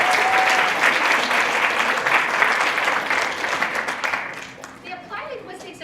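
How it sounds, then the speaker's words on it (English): An audience applauds student program leaders at an Applied Linguistics and TESOL event with dense, sustained clapping that thins and fades toward the end. "A round of applause to them."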